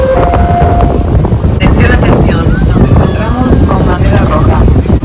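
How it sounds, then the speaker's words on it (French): Strong wind at a beach in Spain roars and buffets the microphone nonstop, with faint voices and surf-like rushing beneath the gusts. "premier jour à la plage et trop de vent, écoutez"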